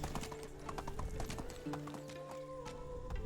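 Steady hoofbeats of a horse in the Medieval Dynasty game, a quick continuous clip-clop rhythm heard close up under low tonal background music, with no voices.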